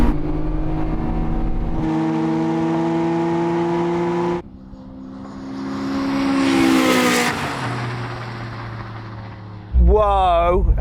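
Cars in a drag race, one with a Honda VTEC engine, rev hard and loud with rising whining engine tones, shifting gears, then a second roaring pass, ending in a warbling, squealing burst.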